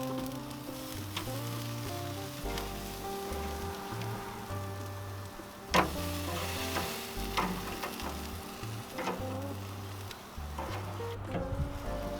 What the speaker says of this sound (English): I'm gonna move these and I'm actually gonna flip them over. Going a little bit more direct over the heat.